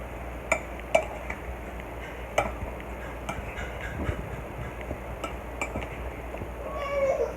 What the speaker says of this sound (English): I'm going to go ahead and stir that up.